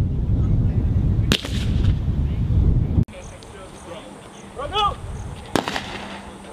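A fragmentation grenade thrown by marines on a training range bursts with a sharp, loud blast and a rush of noise, then a later crack follows over wind, with voices around it.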